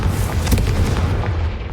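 A Confringo fire spell bursts in Hogwarts Legacy with a heavy, rumbling explosion that rolls on for a couple of seconds, loud and close, with no voices.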